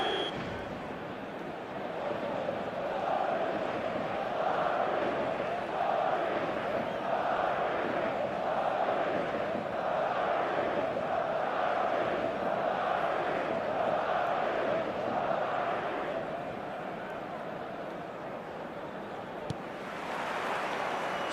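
A large stadium crowd in the eFootball match game roars and chants as one steady, loud mass of voices, with a wash of rhythmic swelling that holds for about twenty seconds before easing slightly.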